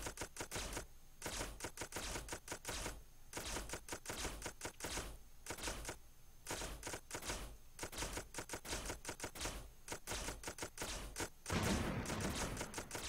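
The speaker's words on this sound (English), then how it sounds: "It's firing off lag missiles! Lag missiles and lag lasers!" Missiles and lasers firing in the video game Planet Explorers, rapid clattering bursts of sharp shots in quick rhythmic volleys with short pauses, ending in a louder rumbling blast, no talking.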